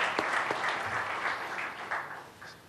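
Audience applause at a Bulgarian Football Union centenary celebration, a dense sustained wash of clapping from a large hall crowd, steady and fairly loud throughout.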